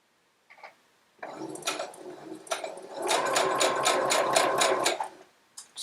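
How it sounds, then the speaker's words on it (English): A sewing machine stitching quilt pieces with a 6mm foot, starting with a brief whir, then a steady rapid mechanical hum and ticking run of stitches before stopping, close and alone. "pop it in your 6mm and then start sewing"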